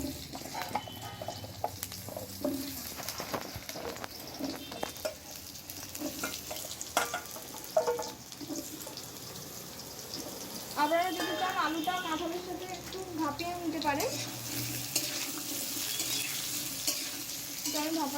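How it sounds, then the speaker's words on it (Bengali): Cut potatoes frying in hot oil in a kadai, a steady close sizzle with stirring clatter throughout, while someone talks over it. "আমি এমনি তেলতেই ভেজে নিচ্ছি"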